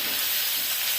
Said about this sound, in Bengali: আমি ডিমের চপের জন্য মশলা ভেজে নিচ্ছি ভালো করে